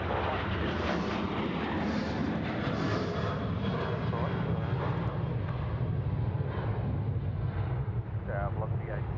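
A fixed-wing airliner touches down on runway 34 right at Sydney Airport, its engines and rolling roar a steady, loud broadband rumble throughout, with faint voices over it.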